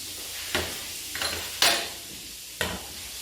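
Mushrooms fry in butter in a pan, a soft sizzle punctuated by four sharp scraping stirs of a utensil against the metal, close and clear with no talking.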